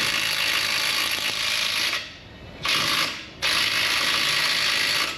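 A right-angle ratchet works on a 19 mm caliper pad bracket bolt, giving a loud, close, rapid clicking that cuts out twice briefly before resuming.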